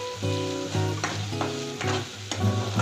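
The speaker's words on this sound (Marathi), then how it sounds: "हा मसाला चांगला शिजू देऊ आपण कारण की आपण तो कच्चा काढलेला होता" Masala paste cooking in oil in a pan for a wedding-style mixed vegetable curry, with a steady sizzle and repeated scraping stirs plus a low steady hum underneath, close and with no speech.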